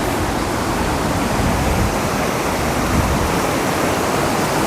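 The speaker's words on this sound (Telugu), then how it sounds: "రాళ్ళ మధ్య నుంచి అలా, కొండల మధ్య నుంచి రాళ్ళ పై నుంచి అలా వాటర్ జారుతుంటే నిజంగా చాలా అంటే చాలా బాగుంది" Thonam waterfall runs between hills and over rocks as a loud, steady, dense roar of rushing water that fills the clip, close and unbroken, with no voices.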